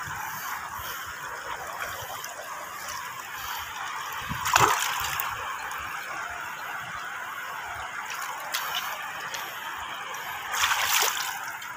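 Shallow stream water sloshes and splashes softly as someone wades across on foot, with a steady running-water wash underneath and a few louder splashes standing out from the flow.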